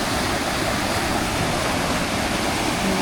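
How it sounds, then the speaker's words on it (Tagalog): Steady broadband rush of river water flowing near a hiking trail in the Toronto–Mississauga area, a continuous close wash with no pauses and no voices. "Guys, nandito tayo sa ilog."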